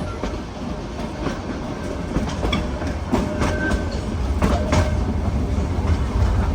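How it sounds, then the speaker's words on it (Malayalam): A Nilgiri Mountain Railway train travels from Mettupalayam toward Ooty, nearing Kallar station, with a loud, continuous rumble and rhythmic wheel clacks heard from on board. "കല്ലാർ സ്റ്റേഷനിലേക്ക് ട്രെയിൻ എത്തിയിരിക്കുകയാണ്"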